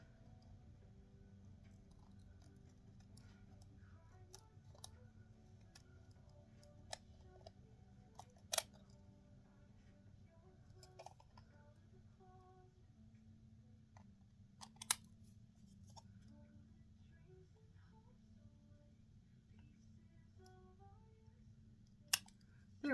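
Scissors trim paper edges in sparse, separate snips spread over a long quiet stretch, faint and close, with a low steady hum underneath.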